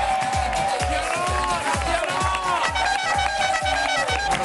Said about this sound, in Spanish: Venga, Un aplauso para Tatiana.